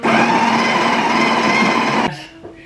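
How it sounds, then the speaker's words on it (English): A Sage coffee machine grinds coffee beans, a close, loud whirring buzz with a steady motor tone for about two seconds before winding down and fading out. "So I grind my beans."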